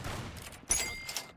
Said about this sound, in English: That was a snipe, wasn't it? I got sniped.